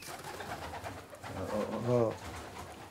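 Pigeons coo in low, rounded, repeated calls that swell toward the middle, heard close by amid a brief spoken word and light background noise.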